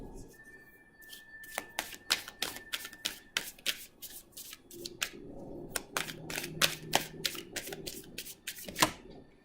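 Tarot cards are shuffled in quick, crisp riffles and rapid flicks, then drawn, the papery snaps close and busy, with a brief faint tone and a soft voice murmuring in places.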